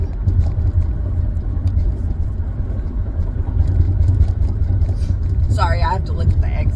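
Steady low engine rumble and road noise inside a moving car heading for a highway exit, loud and continuous, with a brief voice near the end.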